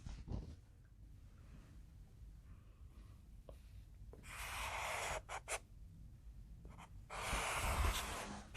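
Pencil writing a maple leaf's name on paper, heard as close, scratchy strokes in short bursts with pauses between them in a quiet room, interrupted by a few soft breaths.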